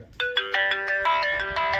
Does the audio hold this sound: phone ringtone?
yes